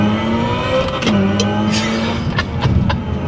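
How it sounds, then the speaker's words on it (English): A Hyundai Ioniq 5 N in its Evolution mode plays a synthetic engine note resembling an old F1 car, loud from the cabin, with pitch sweeping up and dropping in quick shifts. "One is Evolution, which we are in now, which is kind of like an old F1 car slash futuristic EV thing."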